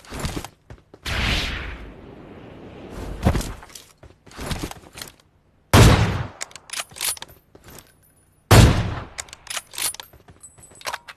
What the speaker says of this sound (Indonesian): Duh, buang-buang peluru AWM gue